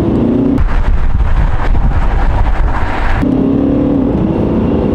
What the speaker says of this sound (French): On sent qu'elle chante un petit peu quand même. Ça reste un diesel